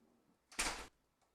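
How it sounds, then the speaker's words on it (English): A door opens or closes in the background with a single short, muffled thump and rush of air, fairly faint, in an otherwise quiet room. "Sorry about the noise in the background, by the way, if you heard the door"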